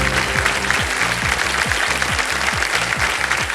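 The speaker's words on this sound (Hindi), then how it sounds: "अब ताली बजा सकते हैं आप" Studio audience on the KBC Season 16 quiz show set applauding a correct answer, steady dense clapping sustained throughout, loud and close, over a low rhythmic music bed.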